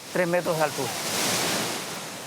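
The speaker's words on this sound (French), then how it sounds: "Là, ce sont les cuves qu'on remplit d'eau et c'est ça qui produit la vague." A wave machine at an amusement park wave pool, where filled water tanks release to make waves 50 cm to 3 m high; a brief voice speaks, then a steady broad rush of surf-like water noise carries on.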